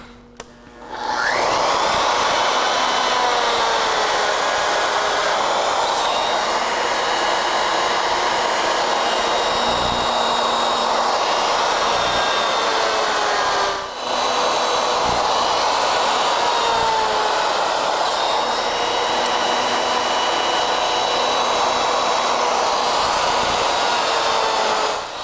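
A router on a Legacy ornamental mill cuts flutes in wood with a loud, continuous high whine that holds steady for the whole stretch, dipping briefly once midway before resuming.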